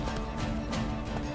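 Horse hooves clopping at a walk in The Witcher 3: Blood and Wine, a steady close clip-clop over a continuous game ambience, with no talking.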